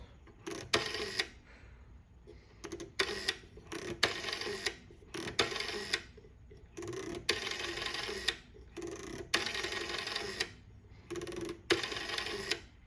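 Repeated bursts of mechanical whirring and clicking from the rotary dial of a 1954 OKI Electric Type 4 Japanese telephone, a dozen or so spins with short pauses between, close and moderately quiet.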